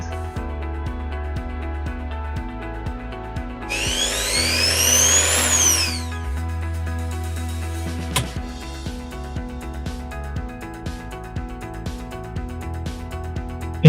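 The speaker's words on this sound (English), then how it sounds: "So I plug an AC consumer like this drill, and it will let me use my AC equipment." An electric drill running on AC from an off-grid solar inverter whirs up to speed, holds a loud high whine for a couple of seconds, then winds down, with clicks and a hum around it.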